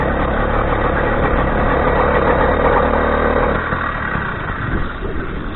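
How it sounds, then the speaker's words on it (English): Motorbike engine firing up on choke, a steady, loud running drone that eases slightly partway through, with no talk over it. "Alright, it's gonna need choke. Oh, it's firing."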